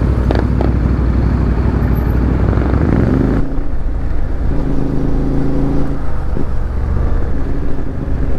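Road traffic on a Philippine highway in South Luzon near road construction, with a steady engine and tire rumble and passing vehicles that shift partway through, continuous and moderately close.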